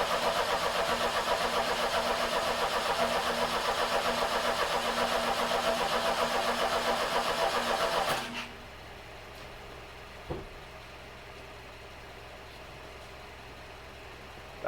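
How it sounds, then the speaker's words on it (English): A car engine cranks steadily for about eight seconds after its fuel injector harness is reconnected, a loud, even churning that stops without catching, followed by near silence and a single faint knock. "We'll crank it, see if it fires."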